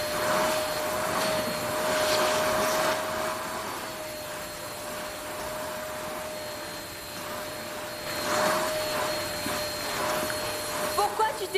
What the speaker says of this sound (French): Pourquoi tu t'énerves sur cet aspirateur?